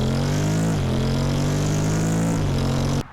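A 2024 Honda Forza 750 scooter accelerating close by, its mid-pitched engine note rising and falling through a couple of throttle changes, loud and continuous before cutting off abruptly at the end.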